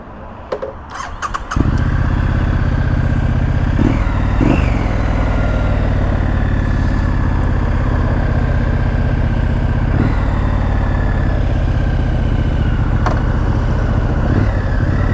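A 2020 Triumph Street Scrambler motorcycle's engine fires up after a few clicks and settles into a loud, steady idle, with a couple of short throttle blips partway through.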